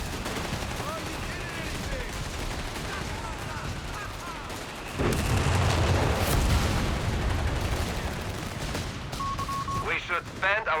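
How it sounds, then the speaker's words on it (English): Nebelwerfer rocket artillery firing in Company of Heroes 3 amid a busy battle, a steady wash of distant gunfire and explosions that swells into a louder, denser roar midway, with scattered sharp shots and game chatter over it. "Some Nebelwerfer action on the top."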